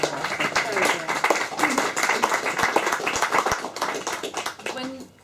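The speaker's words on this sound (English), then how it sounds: "I think he deserves a round of applause." Audience clapping at a book launch in a bookshop, uneven and fairly close, with scattered sharp hand claps and voices talking over it throughout.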